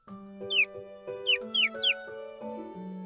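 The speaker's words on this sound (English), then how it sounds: "He blows the bird whistle, and the crisp sound travels through the forest." A bird whistle blown in the video game Love and Deepspace, forest scene: several short, bright chirping whistle trills in quick succession, clear and up close over steady background music.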